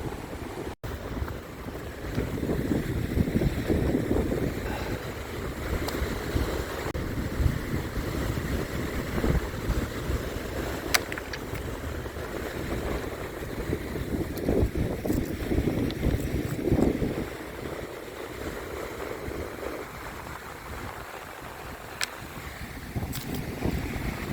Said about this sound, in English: Lake Superior is mean and yelly today.